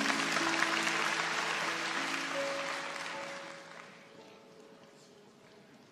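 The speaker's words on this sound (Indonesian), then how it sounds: "Kasih tepuk tangan untuk Tuhan Yesus" Congregation applauding in a church, a dense steady wash of clapping that holds loud for a few seconds and then fades, with a faint sustained musical tone underneath.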